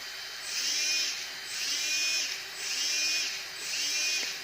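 A SkyRC Cheetah brushless motor in an RC drift car runs in reverse, giving four evenly spaced high-pitched whining bursts that rise and fall, close and fairly loud, with no talking.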